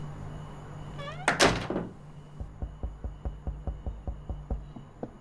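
Knocking on a door in a sci-fi radio drama: after a brief meow-like cry and a loud thump, a steady series of about a dozen evenly spaced knocks follows, moderately close.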